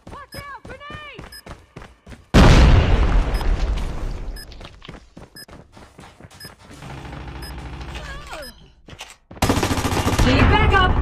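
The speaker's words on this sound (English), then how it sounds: "Watch out, grenade!" Gunfire and a grenade blast in a Search & Destroy match, with rapid sharp shots followed by a loud booming explosion, then more bursts of fire and a second heavy blast, with game voice callouts mixed in.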